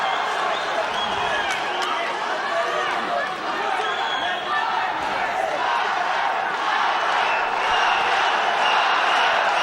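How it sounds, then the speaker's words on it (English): A dense arena crowd roars and chants a fighter's name during a professional MMA bout, a loud, sustained wash of voices that rises and swells steadily throughout. "Crowd chanting out Balаев's name."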